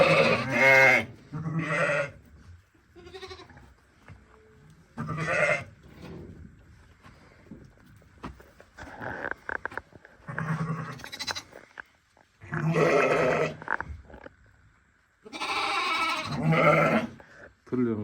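Hissar breed lambs bleat in repeated loud, close calls with pauses between, several animals overlapping at times.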